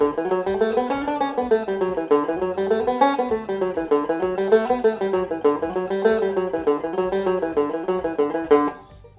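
A banjo picks a nine-note scale exercise as a steady run of plucked single notes rising and falling in repeating waves, bright and close, with no talking.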